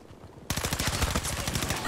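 Rapid automatic gunfire in the shooter game Battlefield 2042 starts abruptly after a quiet moment, a loud, steady burst of closely spaced shots.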